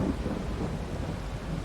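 Heavy rain and rumbling thunder in a farming video game, a loud continuous low roar with dense rainfall over it.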